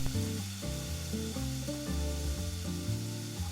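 Steady sizzle of pancake batter frying in a hot buttered pan, with a melodic music track playing over it throughout.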